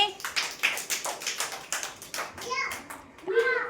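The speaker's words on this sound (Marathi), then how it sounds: "छान टाळ्या वाजा सगळ्यांनी" Young children at a preschool shape-recognition activity clap their hands in quick, rhythmic bursts of sharp slaps, close by, with a voice and an adult's speaking over and between the claps.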